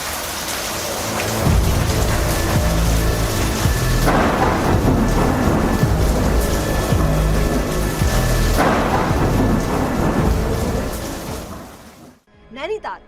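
Heavy monsoon rain pours in the Kumaon hills, with loud rolling thunder swelling twice during a steady downpour. The storm stays close and continuous before cutting off abruptly near the end.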